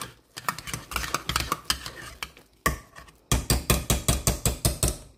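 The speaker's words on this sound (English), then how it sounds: "Mix it up some more." Spoon stirring salt into a Sunday roast in red wine gravy in a pot, rhythmic scraping and clinking strokes, near and fairly loud, with a brief pause before a faster run of regular stirs.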